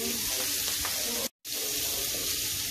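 Sake salmon fish frying in a pan, a loud steady sizzle close up, broken by one brief gap of silence partway through.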